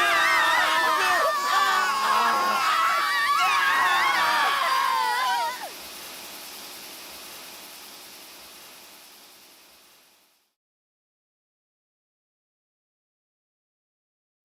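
Crowd screaming in the video game Zero Time Dilemma: many voices shriek and wail loudly together, then drop to a lower, thinning wash of noise that fades into silence.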